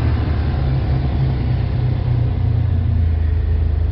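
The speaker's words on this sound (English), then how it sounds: "So we're going to start the engine up." A 2004 Jeep Wrangler engine, one that is hard to start and throws a cam sensor code, cranks and settles into a steady, loud low rumble that stays close and even for the whole stretch, with no talking over it.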